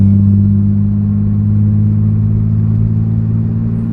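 Nissan 350Z with a newly installed motor accelerating up a highway on-ramp, a steady loud low engine drone heard from inside the cabin, holding constant for a few seconds without talk.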